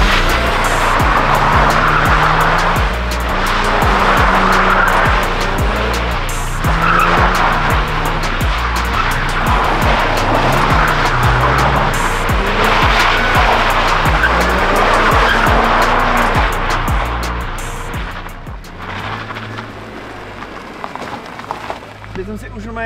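A BMW M Roadster drifts on a dirt lot, its engine revving hard through repeated rising and falling runs while the tires squeal and skid, loud and continuous, with people talking over it.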